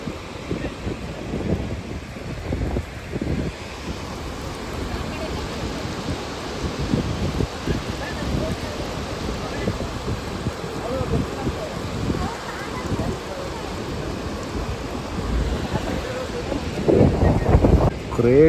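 Steady broadband rush of rain and falling water at Mallalli Falls during the monsoon, with wind buffeting the microphone throughout and the roar swelling louder near the end.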